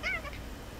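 A single short meow from the cat monkey character in the video game Shadow Gambit, bright and close, fading quickly into quiet background hum.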